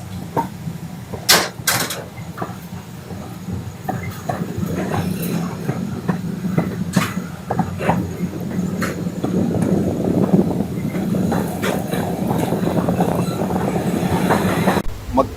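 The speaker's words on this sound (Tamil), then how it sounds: "ஒரு 5 minutes ஹால்ட்டுக்கு அப்புறம் நாம எடமன் ரயில்வே ஸ்டேஷன்ல இருந்து கிளம்பியாச்சுங்க" A passenger express train departing Edamon railway station in Kerala, rolling steadily with rumbling wheels, rhythmic clatter and occasional squeals, building as it gathers speed; heard from on board, no talking.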